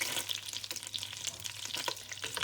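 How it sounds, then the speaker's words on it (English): Pork chop meat sizzles and crackles quietly at the edge of a pan of oil that is not yet fully hot. The soft, steady frying hiss continues with no voices over it. "I'll put in the meat just in the edge to see if it's frothy"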